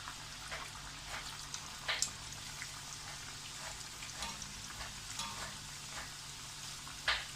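Raw banana slices frying in oil for homemade chips, a faint, even sizzle with soft bursts of bubbling and occasional light clinks, heard from close by.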